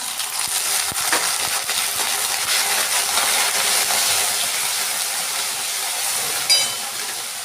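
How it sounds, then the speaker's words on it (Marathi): Peanuts roasting in a pan for kanda batata poha give off a steady sizzling hiss with occasional light rattles and clicks, close and continuous. "शेंगदाणा जरा परतायचा आहे तो ओला व्हायच्या आधी"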